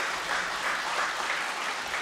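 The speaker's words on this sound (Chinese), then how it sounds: "第二次登台啊，掌声热烈点吧。" A hall audience at the first Chinese Basketball Hall of Fame induction ceremony claps in sustained, steady applause, a little distant and with no voices over it.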